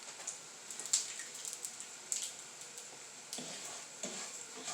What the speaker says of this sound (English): So I'm browning my rice.